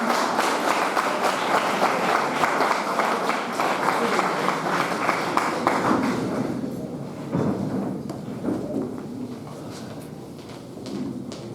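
An audience at a Republic Day ceremony applauds to welcome the chief guest, dense, steady clapping for about six seconds before thinning into scattered claps and faint room noise.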